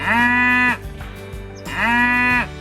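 A cow moos loudly and close by, giving two long, drawn-out calls with a short pause between them and nothing else competing.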